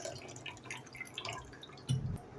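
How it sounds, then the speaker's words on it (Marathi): Water poured over urad dal set to soak in a bowl, heard as quiet, uneven trickles and drips followed by a brief, slightly fuller splash near the end, close by and with no one talking. "उडदाच्या डाळीमध्ये सुद्धा पाणी घालूया."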